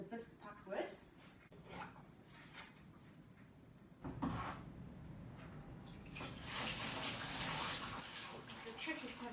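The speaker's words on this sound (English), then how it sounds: "I'm going to go three rotations around the pot and then I'm going to spray on the inside" Glaze sprayed onto a large unbisqued fermentation pot during raw glazing, a steady hissing spray that builds louder in the second half, with brief bursts earlier and talk partly underneath.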